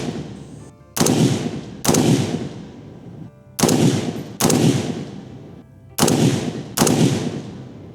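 JAKL .308 rifle fired about a second apart: six loud, sharp shots in three pairs, each crack ringing briefly before the next, with no talk.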